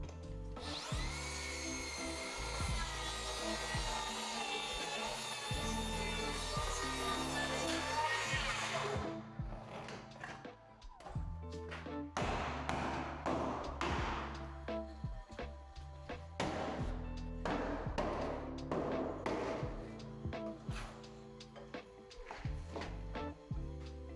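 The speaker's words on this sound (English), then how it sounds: "So yeah, first job, run a saw for it." A power saw cutting through a damaged timber bullnose stair tread on a UK carpentry job, a loud sustained whine for several seconds, then repeated bursts of cutting and rough sawing close by, with occasional voices.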